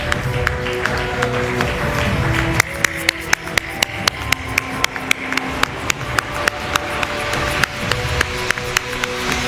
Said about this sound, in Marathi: सगळेजण टाळ्या वाजून खूप स्वागत करतील